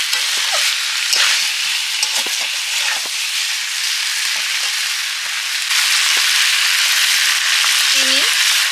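Boiled potatoes and cauliflower fry in a hot pan with oil while cooking an aloo phulkopi curry, a loud steady sizzle and hiss, with occasional stirring clicks and a brief tonal sound near the end.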